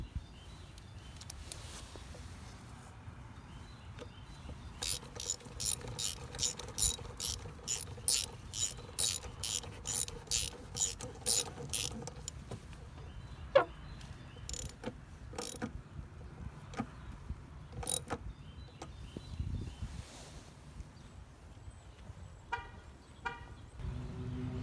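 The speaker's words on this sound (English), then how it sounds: "And then we'll secure it with this nut," A ratchet wrench tightens a 10 mm nut while a cold air intake is fitted to a 2012 VW Golf R, with a steady run of rapid clicks in the middle, then scattered clicks and handling noises close by.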